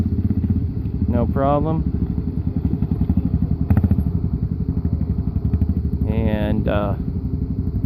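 Adventure motorcycles, a BMW and a Kawasaki KLR among them, crawl over logs and rocks on an off-road course, engines chugging steadily with occasional clanks, under intermittent talk.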